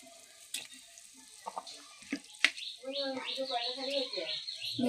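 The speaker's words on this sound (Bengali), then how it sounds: "ঝোলটা ফুটে গেছে এবার মাছগুলোকে দিয়ে দেবো আস্তে আস্তে" Pieces of shol fish slid one by one into a boiling curry broth with potato and papaya, giving soft splashes and clinks followed by a rising, bubbling sizzle that fills the last seconds.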